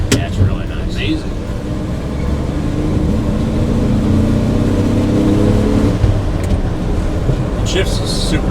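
A 1959 Chevrolet Apache truck's warmed-up engine hums and builds as it drives and shifts through gears, a steady mid-low drone rising in pitch, with people talking over it near the start and end.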